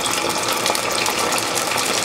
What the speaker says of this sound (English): Now add some cold water.